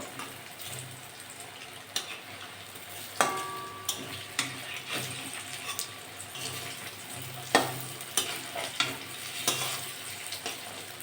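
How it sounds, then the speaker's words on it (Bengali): Papaya dhoka cakes fry in a pan with a soft, steady sizzle, broken by repeated clicks and taps of a spatula as the pieces are turned. "এক সাইডে ভাজা হয়ে গেছে এবার আস্তে আস্তে উল্টে দেবো উল্টে পাশে ভালো করে ভাজা করে নেব"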